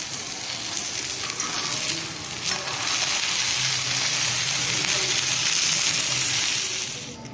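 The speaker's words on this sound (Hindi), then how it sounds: "अभी मैं 3 अदर फ्राई कर रही हूँ शामी कबाब" Shami kebabs sizzle and crackle steadily in a hot pan, a close, continuous frying hiss with no talking.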